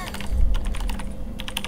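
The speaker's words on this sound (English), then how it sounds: "I swear I'm typing this." Rapid keystrokes on a computer keyboard while entering a password in the Fears to Fathom horror game, a close series of crisp clicks in quick bursts with a short pause before a final flurry, no talking.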